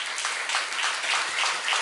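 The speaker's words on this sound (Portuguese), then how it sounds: "Então vamos dar palmas para Jesus" A church congregation claps together in steady, sustained applause, a dense wash of many hands with a faint rise and fall in intensity.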